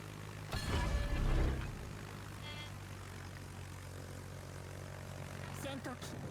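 Aircraft engines drone steadily in the naval combat game World of Warships as rocket planes fly in, a low continuous hum with a louder burst early on, while a voice talks over it.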